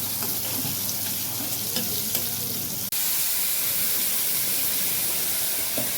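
Ginger, garlic, onion and chili spice paste sizzles and fries steadily in a pan for fish curry, a dense close hiss with a brief dropout midway and no voices.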